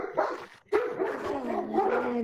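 A dog barks and yips in a few short, close bursts with a brief gap between them, heard alone.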